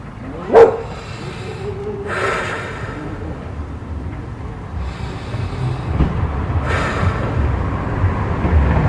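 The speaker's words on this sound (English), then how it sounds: "This is territorial barking" One sharp territorial dog bark near the start, followed by softer, rougher sounds and a steady rumbling background, fairly loud and close.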